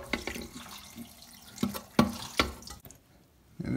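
Water drains from a toilet tank during a fill valve replacement, with soft trickles and several sharp drips and splashes close by, set against quiet room tone.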